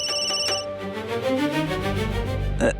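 A telephone rings with a repeating electronic tone, fairly loud and steady, with a short bright chirp near the end and no voices.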